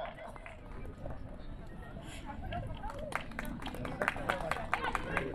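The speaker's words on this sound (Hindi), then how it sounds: "जबरदस्त ताली बजाइए।" An audience at a prize ceremony breaks into clapping that builds over several seconds into sharp, close applause, with crowd murmur and a voice speaking over it.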